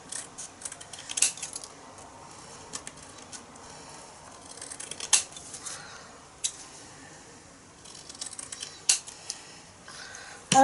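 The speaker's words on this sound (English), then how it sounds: "I'm going to just go and roll it with the scissors again." Scissors rolled over paper on a card for a Stampin' Up! Waterfront stamp set, making soft irregular patter and small scraping taps up close, quiet with occasional sharper clicks.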